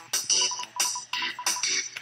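A cell phone sound effect from the Undertale video game, playing as repeated bright electronic bursts in a steady rhythm, loud and close, with no talk over it.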